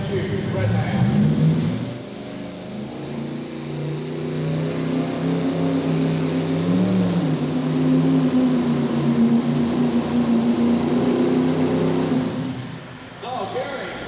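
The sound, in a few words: three-engine Chrysler-powered pulling tractor running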